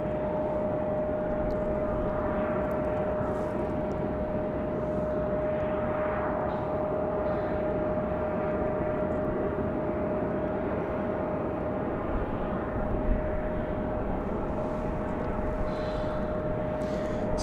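An Air France airliner at Raleigh Durham International Airport at evening, a steady distant jet engine roar holding level the whole time with a faint constant whine, no voices.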